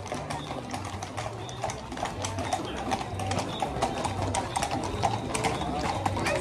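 Horses' hooves clip-clop steadily along a street during a civic and military parade in El Grullo, Jalisco, a continuous rhythmic clatter of many hooves over a busy crowd and background din.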